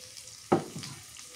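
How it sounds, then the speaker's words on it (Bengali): Chili, onion and bay leaf fry in hot oil for a village-style beef and sweet pumpkin curry: one short, sharp sizzle burst fades into a quiet crackle. "মরিচ পেঁয়াজ তেজপাতা ভাজা হয়ে গেছে"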